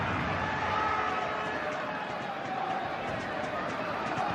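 A football stadium crowd at a Leonesa versus Barcelona Copa del Rey match, a steady broad roar of many voices, distant and diffuse, with commentary over it.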